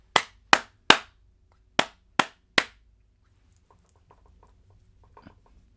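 Six sharp hand claps for a capture card audio test, sounded in two quick groups of three, close and loud with clean decay and near-silence after, followed by faint low rustling.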